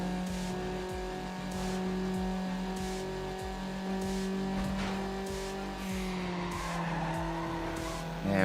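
A Mazda Miata with traction control off drifts in Need for Speed Underground, with a steady engine drone and repeated tire squeals rising and fading across the slides, loud and continuous.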